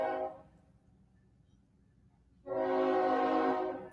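A passing train sounds a long, loud, steady horn blast through a town, starting abruptly after a brief quieter stretch with the rumble of the train underneath.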